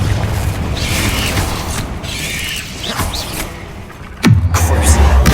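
Near the end of a stretch of magical combat in Hogwarts Legacy, the Confringo spell lands as a sudden loud, deep explosive boom that rumbles on, following hissing spell effects and fight noise.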